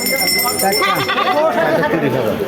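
Goats bleat amid the bustle of a livestock market, several wavering calls overlapping close by under busy background chatter.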